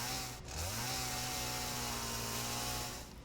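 A chainsaw in a farming video game cuts with a loud, steady buzzing drone that holds at one pitch for about three seconds after a short start, with no talking over it.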